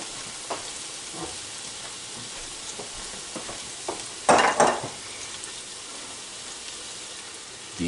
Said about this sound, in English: Now we're going to lay our pork bellies down here.